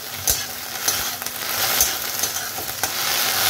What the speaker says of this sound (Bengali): ঢেঁড়সটা ভাজা হচ্ছে